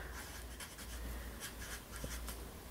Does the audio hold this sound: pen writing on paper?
yes